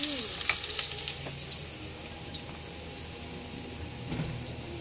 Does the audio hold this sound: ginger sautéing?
yes